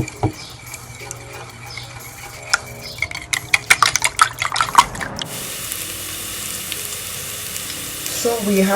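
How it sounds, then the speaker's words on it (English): Garlic sauteing in a pot on medium-low heat, a steady hiss of frying under scattered clinks and scrapes of stirring, with a burst of rapid taps before the sizzle settles into a continuous, close, even wash. "we have our garlic here, sauteing"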